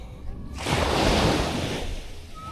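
Sea waves wash onto a fine-sand beach, one broad surging swell that rises, peaks and slowly recedes, fairly soft and close with no talking.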